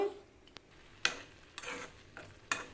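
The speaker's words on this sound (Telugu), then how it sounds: "ఇలా కలుపుతూ ఉడికించుకోండి చక్కగా ఉడుకుతుంది చింతపండు" Tamarind cooking down in a pot, stirred with a utensil that scrapes and knocks against the pot in several separate strokes over a faint simmer.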